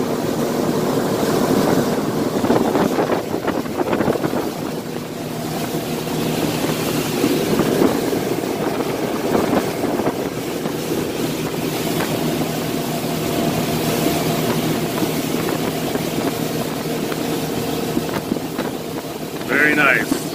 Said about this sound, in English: Very nice. Nice smooth boat. Cuts the waves nice.